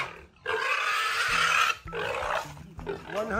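Pigs on a farm in the Philippines let out loud, close squealing grunts in two or three rough bursts, with short gaps between them.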